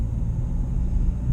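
Dacia Duster petrol car driving steadily just after a U-turn, a continuous low engine and road rumble heard from inside the cabin with no break.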